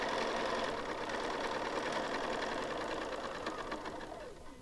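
A sewing machine with a quarter-inch foot stitches half-square triangle quilt pieces along a dotted line, a continuous close mechanical whir that holds steady and eases slightly at the end, with no voices.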